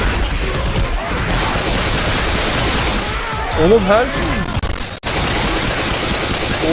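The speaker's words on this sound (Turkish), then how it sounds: "Pat patlayıcı mermilerle dalıyoruz." Heavy, continuous explosive-ammunition gunfire and blasts in Left 4 Dead 2 VR roar throughout, loud and dense, while a player shouts briefly over the din.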